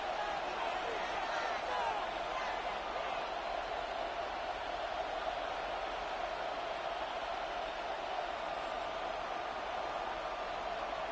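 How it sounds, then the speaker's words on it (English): A steady, even crowd roar fills a Packers vs Vikings American football video game as third down approaches, a constant wash with no peaks, under commentary voices. "This crowd into it now as we get to third down."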